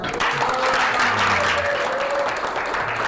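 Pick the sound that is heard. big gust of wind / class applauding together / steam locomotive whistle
class applauding together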